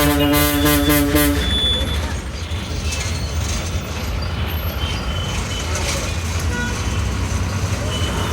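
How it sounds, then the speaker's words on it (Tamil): City road traffic in Coimbatore heard from aboard a TNSTC bus: dense, steady engine and road rumble with a brief horn toot at the start and a few faint beeps, continuous and fairly loud throughout. "இதுக்கப்புறம் பாருங்கள் எவ்வளோ டிராஃபிக்."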